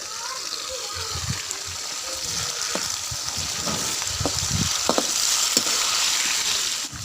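Okra frying in a pan as tomatoes go in, a steady loud sizzle with broadband hiss throughout and a few soft stirring knocks underneath, close and continuous.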